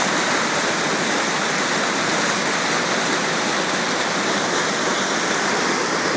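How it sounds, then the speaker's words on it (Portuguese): Water pours steadily over the Forquilha dam spillway waterfall in Maranguape, Ceará, a loud, continuous broadband roar with no breaks and no voices. "Fazia tanto tempo que ele não vertia e o mato tomou conta, né, aqui da cachoeira do Sangrador."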